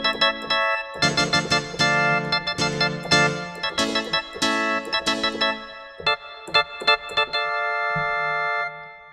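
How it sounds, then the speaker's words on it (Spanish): A Korg M1 synthesizer organ sample plays bright chords: sustained stabs at first, then shorter staccato hits, ending on a low held note. No voices are heard. "Luego hay un órgano que suena en esas partes."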